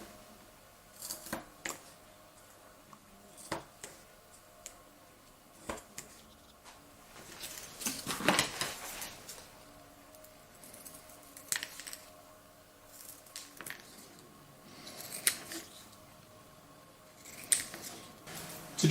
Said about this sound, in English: I'm going to divide up the strip of cardboard into track-sized pieces